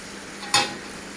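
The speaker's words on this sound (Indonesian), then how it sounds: "Ini ikannya saya sudah haluskan, saya pisahkan tulangnya, terus saya tumis sama bumbu" Shredded fish stir-fried with spices in a pan gives one short, quiet sizzling scrape of a stir near the middle, over a faint steady kitchen background.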